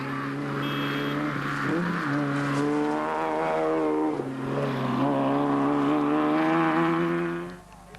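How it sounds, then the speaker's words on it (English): Big 7-litre Chevy V8 of the Mountain Dew Porter off-road racer at the Toyota 1000 desert race, a loud sustained engine roar with shifting pitch as it accelerates, fading out at the end. "The big 7-litre Chevy motor that pushes along the Mountain Dew Porter was sounding just fine."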